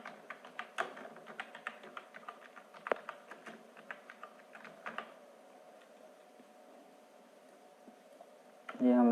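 Irregular tapping of keys on a computer keyboard while writing a cover page in Microsoft Word, faint and close, then a brief louder sound at the end.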